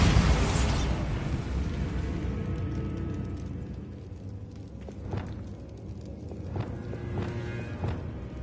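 The Bombarda explosion spell in Hogwarts Legacy goes off with a loud burst at the start, then a long rumbling decay with scattered crackles and smaller pops trailing off, no talk.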